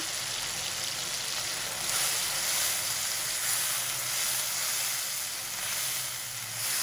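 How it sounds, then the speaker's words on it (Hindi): Keema (minced meat) sizzles in a pan with ginger, garlic and salt, a steady close hiss and crackle of frying that continues without talk. "अदरक लहसुन नमक के साथ 3 मिनट तक कीमा फ्राई करेंगे ताकि कीमे की हीट खत्म हो जाए"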